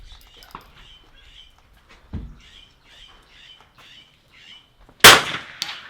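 A bullet strikes a steel target at an NRL22 rifle match: a sharp, loud shot followed by a bright metallic clang near the end, after quiet stretches with faint background chirps.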